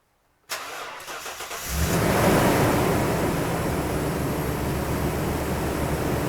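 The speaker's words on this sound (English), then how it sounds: "Let's try and start the car." A car with a weak, low battery cranks briefly and then catches, settling into a steady, loud idle with broadband engine noise close by and no voices.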